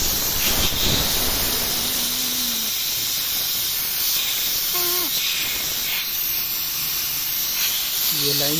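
Pressure is released from the air conditioning system of a 2019 Hyundai Elantra, a loud, continuous, steady hiss that runs throughout with a few faint voiced sounds over it.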